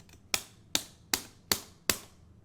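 A Ryu combo in Street Fighter 4 sounds as five evenly spaced, crisp arcade button or stick clacks, each hit loud and close with a short decay between them.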